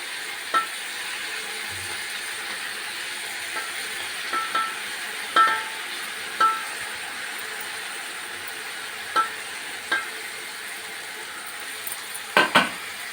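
Ginger garlic paste with mint and coriander leaves frying in oil, a steady soft sizzle with occasional sharp clicks and utensil taps against the pan, close, no voices.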